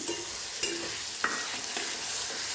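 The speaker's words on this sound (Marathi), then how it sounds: "एकसारखं घालून घ्यायचं आणि अंडी फोडलेली मी घालून घेते." Beaten eggs with onion, turmeric, chilli and coriander frying in a pan for egg bhurji: a steady close sizzle with a few sharp scrapes of a spatula as it is stirred, no voices.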